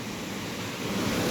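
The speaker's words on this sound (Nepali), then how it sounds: "पुरै पारिपट्टि हेर्नु होला खोला बढेर यस्तो भइरह।" A flood-swollen river rushes past the Dupcheshwar Mahadev temple in Nepal after heavy rain, making a dense, steady roar of water with no breaks or voices.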